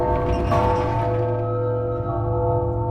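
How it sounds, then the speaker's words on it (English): A deep, resonant bell rings in the puzzle game The Room Three, its sustained tones layered and slowly fading, loud and steady with no talking. "And you're gonna go ring the bell for me?"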